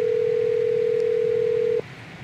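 A steady single-pitch telephone tone from an in-game phone call to internal lines during a bank hostage situation in GTA 5 police patrol mode, holding loud and unbroken for nearly two seconds before cutting off, with no talk.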